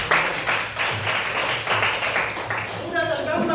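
Classroom applause for a student in an Islamic religious education lesson: rhythmic group clapping in bursts that stops near the end, where a voice is heard.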